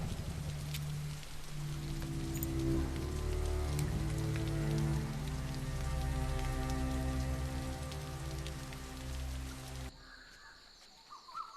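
Steady rain pours down, a dense, constant patter of drops on surfaces that keeps up without a break, then thins out near the end.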